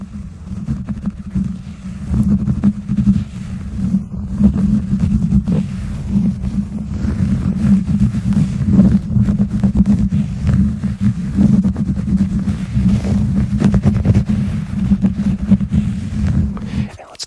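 Rolling walker foot glides handled close against a microphone produce a continuous low, rumbling scrape and rub, steady and loud for the whole stretch with small rustling shifts.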